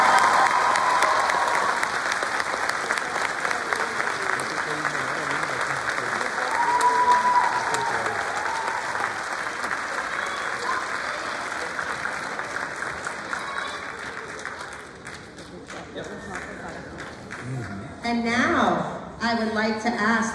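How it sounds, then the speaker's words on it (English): An elementary school fifth-grade ceremony audience claps in a long, full round that gradually thins and fades, then gives way near the end to a nearby voice speaking. "One more round of applause for the Denise Kickoff."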